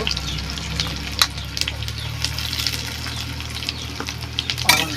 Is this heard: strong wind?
no